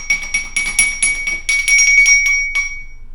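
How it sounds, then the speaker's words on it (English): A small bell rings repeatedly in a quick series of bright metallic strikes, then one ring left to fade, heard close and alone. "Ring the bell."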